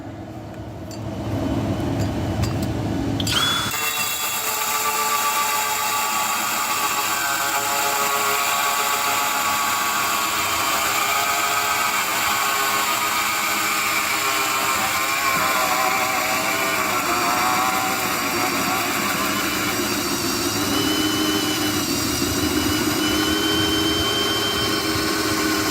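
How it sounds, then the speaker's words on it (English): A large drill bores a hole through a roof for a bathroom fan vent, starting after a few seconds and then whirring loudly and steadily, with slight shifts in pitch as it works through the materials. "But first, we gotta drill a hole."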